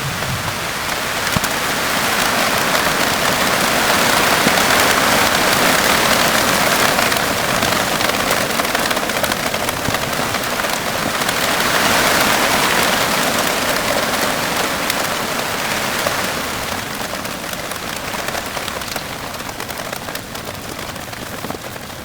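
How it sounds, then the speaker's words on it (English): Heavy rain pouring down on an island, a dense, continuous hiss that stays loud and steady throughout with no voices. "wait for the rain to stop"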